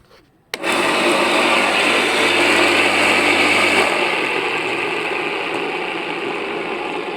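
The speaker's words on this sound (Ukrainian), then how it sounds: "що вертула ще буде декілька секунд крутитися" A 25-year-old electric lawnmower with no blade brake is switched on, hums loudly with a spinning whine for about three seconds, then is cut off and its blade keeps whirring as it slowly winds down.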